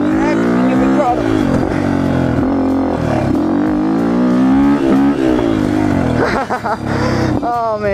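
Dirt bike engine revving hard during a stand-up wheelie, a loud continuous snarl rising and falling in pitch as throttle changes, close by, with wind buffeting.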